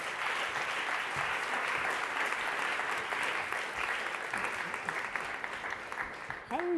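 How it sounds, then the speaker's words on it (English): Sustained applause from a conference audience welcoming a panel of women working in AI onto the stage, dense and steady throughout, with faint voices and a short tonal sound near the end. "Can we give them a round of applause"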